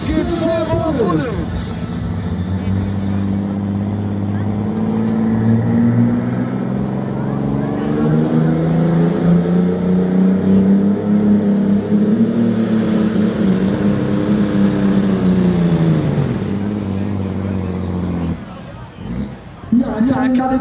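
Limited super stock pulling tractor roaring through a pull at the Anholt 2022 tractor pulling event, a loud sustained engine howl rising in pitch then dropping off, with crowd noise and an announcer talking over it.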